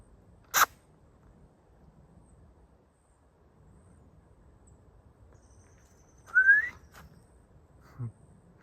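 A deer's alarm call: a sharp, high whistle rings out once on a hiking trail, then after a long quiet stretch a second shrill whistling call sounds at a distance, followed by a faint low note.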